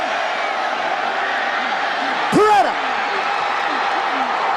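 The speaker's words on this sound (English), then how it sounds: "This crowd has come to life." A stadium crowd in College Football 2008 roars as a touchdown play unfolds, a broad steady wash of cheering with a brief slam-like burst midway, while an announcer commentates over it.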